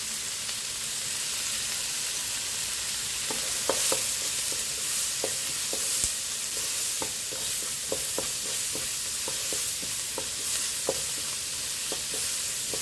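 Bitter melon cooks in a pan with garlic, black pepper and salt, giving a soft steady sizzle with scattered light clicks of utensil stirring, close and without voices.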